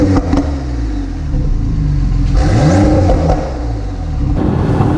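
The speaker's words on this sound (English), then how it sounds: "And then that opens up all the good exhaust sounds" Porsche 911T (991.2) sports car engine revving with exhaust note, a steady loud roar with rising pitch sweeps and pops, close and continuous with no talk.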